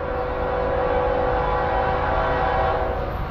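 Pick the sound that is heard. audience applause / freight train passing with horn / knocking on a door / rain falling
freight train passing with horn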